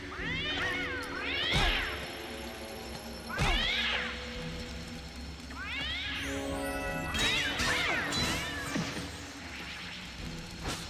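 Knife-wielding cat enemies in the video game Sphinx and the Cursed Mummy meow repeatedly, with rising and falling yowls every couple of seconds over a steady game music and ambience bed, and a cluster of overlapping cries near the end.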